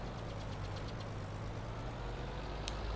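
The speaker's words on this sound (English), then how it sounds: "I don't know if that's the trailer or is that the noise of the actual tractor" A tractor engine in the Farming Simulator 22 video game idles in a steady, low droning rumble that holds evenly throughout, with no talking over it.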